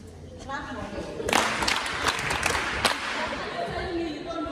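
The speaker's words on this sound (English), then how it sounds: "Clap for me." Audience at a community health event for World Menstrual Hygiene Day breaks into a burst of clapping that swells around the second mark and carries on, mixed with crowd chatter and some talk.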